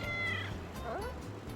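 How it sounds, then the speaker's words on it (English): A stray cat in Manila meows twice, a short rising call then a second wavering one, close by over a low background hum, with a faint voice murmuring. "Are you having a cat conversation with me, huh?"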